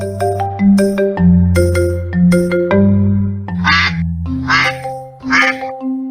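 A duck quacking in a repeated, rhythmic series of bright honking calls, loud and close, with harmonic tones stepping between pitches alongside the quacks.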